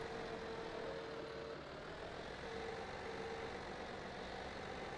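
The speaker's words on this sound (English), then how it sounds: "it's wonderful to have this old tractor up and running and just working with these front loader tools" An old tractor engine from a farming video game, fitted with front loader tools, runs at a steady idle: a continuous low rumble with a broad hiss, no voices.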